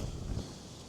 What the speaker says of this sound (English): Golly, this wind is something else.